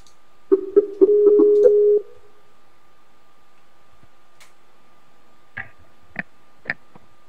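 A chat-app call tone plays as a steady buzzing beep lasting about a second and a half, followed by a few faint scattered clicks. No voices are heard.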